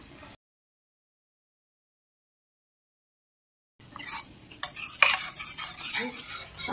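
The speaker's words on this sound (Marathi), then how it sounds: "आणि उकळी येईपर्यंत असंच ढवळत राहायचं आहे" Cold milk being stirred into a white sauce in a pan, heard as a spoon clattering and scraping against the metal in quick, uneven strokes. It starts after a stretch of near silence and grows busier toward the end.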